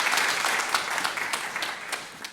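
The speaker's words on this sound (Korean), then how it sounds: "영광의 박수를 우리 하나님께 올려드리겠습니다." A church congregation applauds during a Sunday worship service, a dense, steady burst of many hands clapping together that fades slightly toward the end.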